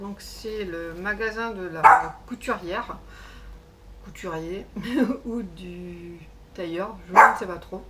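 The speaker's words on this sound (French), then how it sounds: "Désolée pour mon chien, elle se dispute à travers la fenêtre avec mon chat." A female dog barks through a window at the household cat, a few sharp barks breaking in while someone talks in French close by.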